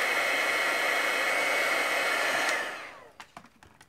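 A heat tool melting metallic embossing powder, giving a loud, steady blowing hiss with a high whine that winds down after a few seconds and ends in a few soft clicks and taps.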